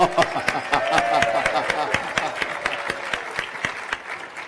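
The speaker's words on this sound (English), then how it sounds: "you would get that applause" Audience applause at an education economics conference, many individual claps forming a lively, fairly close patter that holds steady and tapers slightly toward the end.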